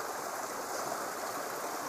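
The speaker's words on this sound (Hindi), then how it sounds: "ये छोटा सा पानी का झरना" A small waterfall and stream on a trail near a hill temple rush in a steady, even hiss at moderate loudness, with no voices.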